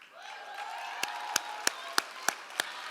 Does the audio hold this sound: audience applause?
yes